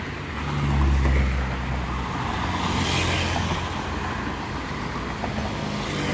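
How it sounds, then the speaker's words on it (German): A few cars, mostly taxis, pass along a quiet Bangkok street, their engines swelling and fading one after another over a low traffic hum, with no other sound on top. "Also für Bangkok-Verhältnisse ist hier gar nichts los. Die Straße ist eigentlich fast tot. Ja. Ein paar wenige Autos. Meistens Taxis."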